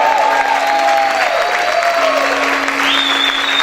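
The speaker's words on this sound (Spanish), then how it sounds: "Grite y aplaude fuerte al Señor." Church congregation applauding loudly and steadily, a dense wash of clapping with a sustained sung or shouted tone riding over it throughout.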